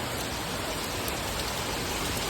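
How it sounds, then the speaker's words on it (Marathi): Heavy torrential rain pours down at night at Dadar Chowpatty beach in Mumbai, a dense, constant roar, loud and unbroken throughout with no voices. "पावसाचा वेग किती आहे बघा. एकदम फोर्सफुली पडतो. मुसळधार पाऊस."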